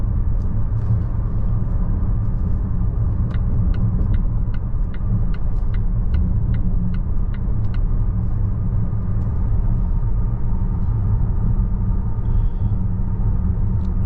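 A 2025 Volvo XC90 cruising on a highway as it builds to 90 km/h, a steady loud low rumble of engine and road noise inside the cabin with faint ticking clicks over the top, no voices.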